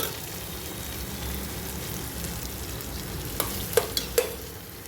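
Kolhapuri chilli powder crackles in hot oil for a brinjal masala tempering, a soft continuous sizzle ending in a few sharp pops and utensil clinks.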